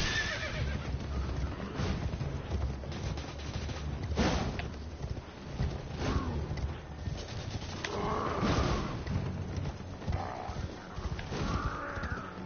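Horses in a video game neigh and whinny repeatedly over the rapid clip-clop of galloping hooves, several loud calls spread across a busy, continuous stretch.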